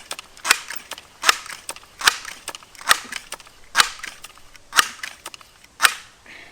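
Repeated sharp gunshots from a pump-action gun crack out at a steady rhythm of roughly one per second, loud and close, with fainter mechanical clicks of pumping between shots.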